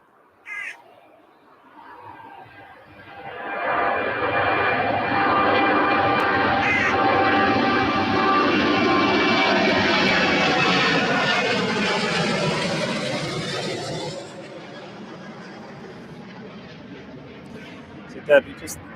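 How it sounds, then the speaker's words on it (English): An aircraft at East Midlands Airport swells into a loud, broad roar as it passes nearby, holds for several seconds, then fades away. A few faint crow caws sound near the start. "I'm going to be quiet so you can hear the plane."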